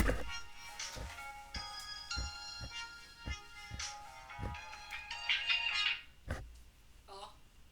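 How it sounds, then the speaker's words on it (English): A mobile phone rings nearby with a repeating electronic melody of bright tones, together with soft clicks and thumps from handling. "My phone's ringing."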